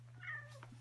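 A Siamese cat at a breeder's home lets out one short, faint meow over a steady low electrical hum, with a soft trailing sound just after.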